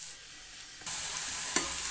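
Bitter gourd pieces frying in a pan for a fish curry, a quiet hiss that suddenly swells into a bright, steady sizzle, with one sharp stirring scrape near the end and no speech.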